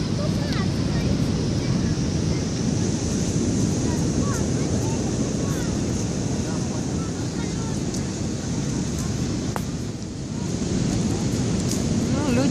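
Stormy sea at Lazarevskoye crashing onto the shore, a constant loud roar of surf with heavy wind buffeting the microphone throughout, no pauses.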